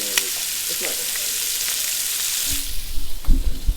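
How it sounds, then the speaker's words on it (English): Sausages sizzle and crackle steadily in a hot pan, joined near the end by a few louder clattering bumps. "Great Sausage Sizzle by The Sausage"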